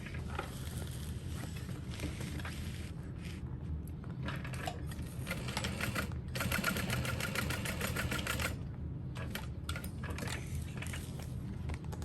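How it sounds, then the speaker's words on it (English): A sewing machine runs in steady bursts while basting backpack fabric, with a rapid mechanical needle chatter that speeds up and pauses, loud and close, without any speech. "I'm gonna go ahead and baste one in place"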